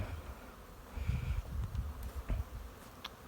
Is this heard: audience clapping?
no